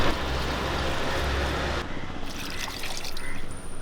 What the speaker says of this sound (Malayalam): ആവശ്യത്തിനുള്ള വെള്ളം കൂടെ ഒഴിച്ചു കൊടുക്കാം